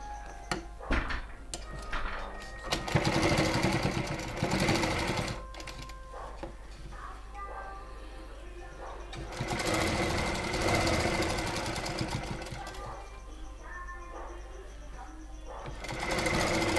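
A sewing machine stitches narrow folded piping onto a blouse. Its steady mechanical whir runs in long stretches, pausing and restarting, and it is close and fairly even in loudness.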